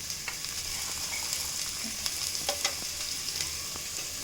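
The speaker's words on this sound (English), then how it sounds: "I'll be sauteing it for 1 minute" Two chopped onions sauteing in hot oil, a continuous bright sizzle with occasional spatters and light stirring knocks, close by and steady, no voices.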